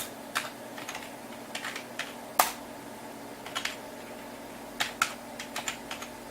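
Irregular clacking keystrokes on a Macintosh Performa 640CD keyboard, a 90s Mac with DOS compatibility, come in short bursts and single taps with pauses between, close and fairly quiet over a steady low hum.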